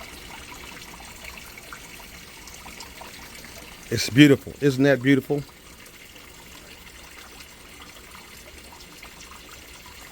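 A soft, steady trickle of running water from an outdoor 60-gallon aquaponics system with a new growbed, in the background, with a person briefly speaking partway through.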